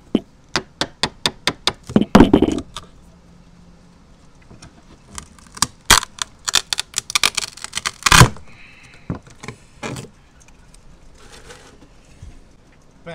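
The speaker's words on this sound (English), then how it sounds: "I'm just using a really old chisel that I don't mind damaging" Sharp hammer blows strike an old chisel in quick bursts while prying up old decking on a Contessa 32 sailboat, with pauses between runs of knocks and a scraping, prying creak midway; close and loud.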